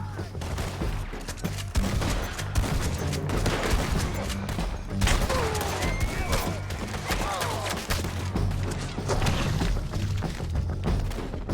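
A video game shootout on a bridge brings sustained, irregular volleys of gunshots with heavy thuds and booms, mixed with shouting voices, over about twelve seconds.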